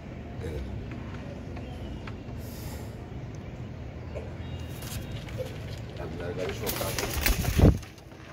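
Royal Teddy pigeons, both ringed male and female, coo softly in low, murmuring rumbles under steady talking nearby.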